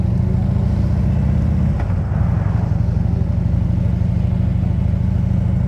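A group of Harley-Davidson motorcycles idles and rumbles together on a chapter ride, a loud steady low throbbing engine drone with a brief dip partway through.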